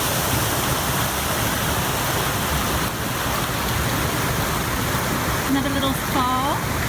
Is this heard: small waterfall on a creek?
yes